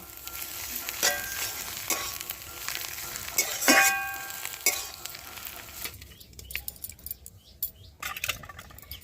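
A cauliflower filling with chopped coriander is stirred in a pan, a steady sizzle with spoon scrapes and clinks against the metal through the first six seconds, fading to quieter, sparse scraping at the end.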